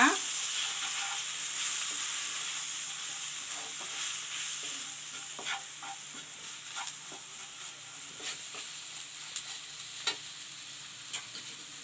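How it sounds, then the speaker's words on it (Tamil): Masala frying in a pan for Tamil black channa kara kulambu is stirred steadily, with a continuous close sizzle and scattered clicks and scrapes of the spoon on the pan, and no voices. "இப்போ இது எல்லாத்தையும் கிளறி விட்டுக்குங்க"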